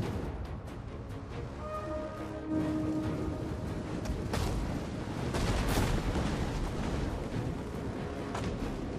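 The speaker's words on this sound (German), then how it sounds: "Jetzt kommen die ersten Explosivgeschosse." Explosive projectiles land in a Total War: Rome II battle in Gaul, a dense continuous rumble of battle noise broken by a few heavier booms.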